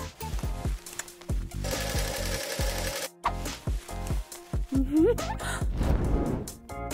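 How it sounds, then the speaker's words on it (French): A sewing machine runs in busy, uneven bursts as a dress is sewn, its rapid mechanical chatter mixed with cartoonish sound effects, rising whistles and music in a lively animated scene. "Ma machine à coudre devrait m'aider."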